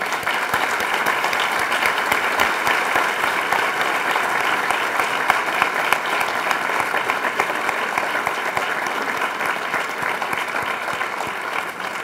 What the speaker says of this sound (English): Let me ask you to hold your applause